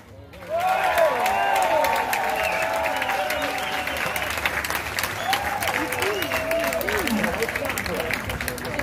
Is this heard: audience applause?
yes